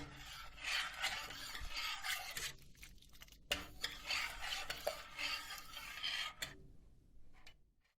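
A spoon scrapes steadily around a pot of Konya arabaşı soup, a close, quiet rasping stir in two long bursts separated by a brief pause, ending in near silence.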